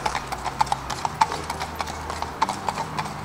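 Horses walk along with a steady clip-clop of hooves, crisp irregular taps close by over a soft background hiss.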